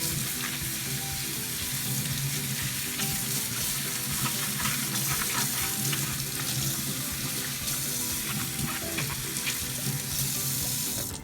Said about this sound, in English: So today we're going to use the green kale, and I'm just going to wash it off.